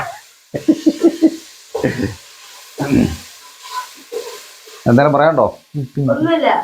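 Sliced onions sauté in a hot pan, a soft sizzle and stirring running beneath several bursts of close conversation.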